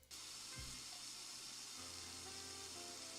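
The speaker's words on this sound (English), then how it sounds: "Turn on your sink or shower to make the sound of moving water." Steady broadband rush of running sink water in the horror dating game Sucker for Love, a continuous hiss that starts abruptly and holds evenly throughout, with a low hum and faint tonal game sounds beneath.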